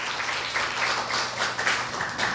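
Audience applause welcoming a Korea University professor at a speaking contest, a brief, steady burst of many hands clapping together at moderate loudness.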